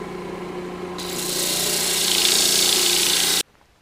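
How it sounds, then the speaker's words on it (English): Segmented wood turning rings are leveled flat, producing a close, steady abrasive rasping that swells louder after a second, holds, then stops abruptly. "Leveling off the rings works pretty well if you just keep it nice and flat as you do it."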